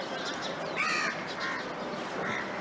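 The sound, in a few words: crow cawing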